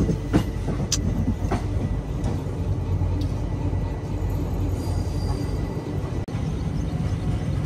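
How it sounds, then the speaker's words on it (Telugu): A goods train passes at Bina Junction, a steady rolling rumble with rhythmic wheel clicks and occasional squeals, continuous and fairly close with no talking. "ఈ గూడ్స్ ట్రైన్ కి సిగ్నల్ వచ్చింది, వెళ్ళిపోతుంది"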